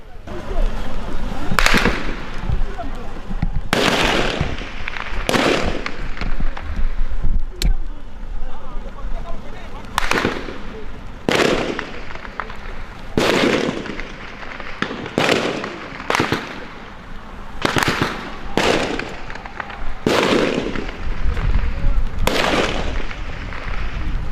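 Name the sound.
heavy weapons and live gunfire in battle near Goma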